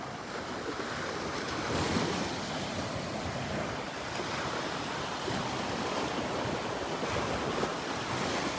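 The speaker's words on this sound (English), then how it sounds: "Love the sounds of these little waves." Small ocean waves wash and break steadily on a Gulf beach at Delnor-Wiggins on an overcast morning, a continuous close surf hiss with gentle swells and some wind noise, no voices.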